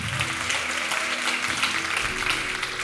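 A church congregation applauds during a sermon, a dense, continuous wash of clapping from many hands filling the room, with faint background tones underneath.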